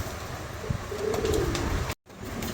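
A soft pigeon coo sounds once amid low background hum, nearby and gentle, followed by a brief drop to silence.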